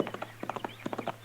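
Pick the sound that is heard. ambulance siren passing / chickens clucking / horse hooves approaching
horse hooves approaching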